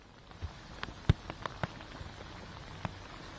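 Heavy rain falls in Patna: a steady, fairly faint patter with scattered sharper drops hitting a surface, heard alone with no talk.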